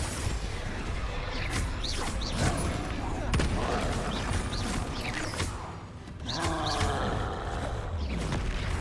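Confringo and Bombarda spell blasts go off in Hogwarts Legacy combat, a dense run of sharp cracks and booming bursts repeating through the whole stretch amid in-game shouting.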